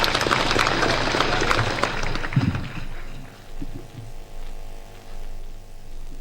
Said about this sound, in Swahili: Tupigie rais makofi tena.